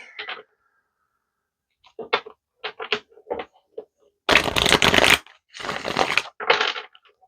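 Tarot cards being shuffled and drawn out during a reading, heard as brief papery bursts of card noise up close, mostly alone with a few quiet pauses.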